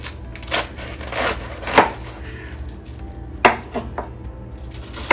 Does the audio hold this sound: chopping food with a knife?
yes